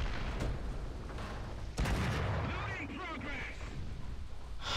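Tank cannon shot in the War Thunder video game, a sharp broadband blast near the middle followed by rumbling battle noise, with talk and game sounds around it.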